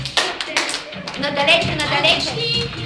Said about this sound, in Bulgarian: Да пляскаме за всички